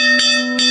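Temple bell at a small Hindu temple in a Brahmin priest's home in India, struck twice with a steady ringing tone that sustains and shimmers between strikes, close and clear.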